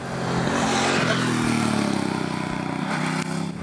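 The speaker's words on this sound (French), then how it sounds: "il délivre une sonorité assez sympa, avec un petit poum-poum d'échappement qui n'est pas désagréable" Hyosung Bobber 300 motorcycle engine running with a soft low exhaust thump, a steady close idle that swells briefly in a light rev before settling back, alone without voices.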